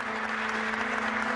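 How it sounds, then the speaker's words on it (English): Studio audience applause at a children's quiz competition, a brief, even wash of clapping with a steady tonal hum underneath, faint and continuous. "Give him a round of applause."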